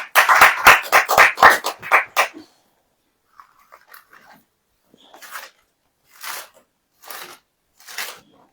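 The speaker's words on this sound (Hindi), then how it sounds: "तालियां नहीं बजाएंगे?" A congregation claps at a Hindi-language church service, a burst of quick loud claps over about two seconds, followed by scattered single claps and shuffling after a pause.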